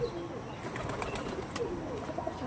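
Madras pigeons kept for sale coo softly in a loft, low murmuring calls repeating through steady background hiss with occasional faint chirps and rustles, no talking.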